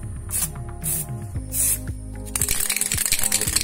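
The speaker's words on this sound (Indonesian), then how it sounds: "Kita semprotkan" Refilled Pilox spray paint can spraying in several short hissing bursts, then a longer continuous spray, close and loud, with rattling and mechanical clicks between the bursts.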